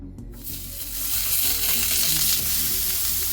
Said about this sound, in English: So I'm going to place the patty on the grill pan.